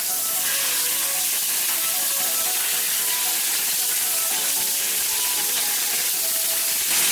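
A steak sizzles steadily in a hot pan right after being flipped, a loud, close, continuous crackling hiss that runs without pause.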